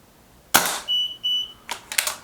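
A single sharp crack from a Kral Puncher K air rifle firing through a chronograph, followed by a few short electronic beeps and a quick clatter of handling clicks.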